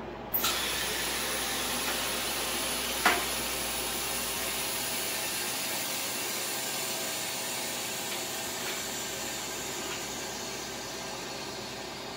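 Air hisses steadily into a freeze dryer chamber after its valve opens, a sustained broadband rush that begins with a click and stays loud and even for several seconds.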